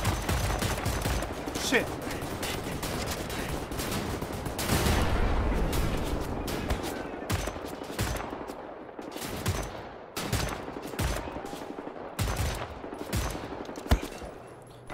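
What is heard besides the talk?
gunfire from a gun in the video game Wolfenstein: The New Order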